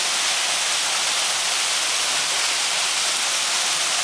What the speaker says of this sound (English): Rachel's rappelling down a 30-foot waterfall here down by Tiburon, down at the bottom here.